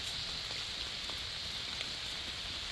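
Steady rain falls at Thenmala, a dense, even hiss that fills the whole short stretch without pause, with a few faint drips and patters standing out now and then and no voices over it.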